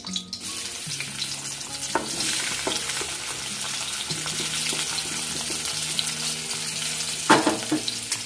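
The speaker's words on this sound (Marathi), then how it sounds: "कांदा थोडा ब्राऊन होईपर्यंत भाजायचा" Chopped onion fries in two spoons of oil in a hot kadhai, with a continuous close sizzle, occasional stirring scrapes and a low steady hum underneath.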